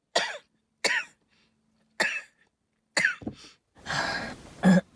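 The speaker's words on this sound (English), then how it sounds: "Just now I coughed" A person gives several sharp, separate coughs spaced about a second apart, then a longer rough cough and a throat-clearing sound near the end, all close and fairly quiet, in cold weather.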